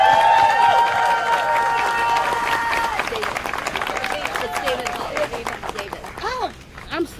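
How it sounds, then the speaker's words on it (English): A crowd at a union canvass launch in Philadelphia claps for David Hogg, with cheers and whoops rising over the applause, then the clapping thins out and voices chatter as it fades. "let's please give a unite here clap for Douglas Hogg"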